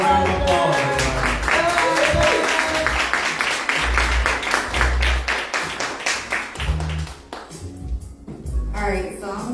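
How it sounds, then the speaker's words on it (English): At a church men's ministry event, an audience claps in a sharp, rhythmic beat along with thumping bass-heavy music, with voices calling out over the clapping before it breaks off near the end. "Give her a round of applause, everybody."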